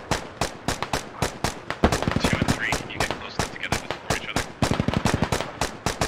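Rapid bursts of gunfire from a suppression squad in the tactical shooter Squad, a steady stream of sharp shots in quick rhythmic volleys with brief gaps, loud and close throughout with no talk.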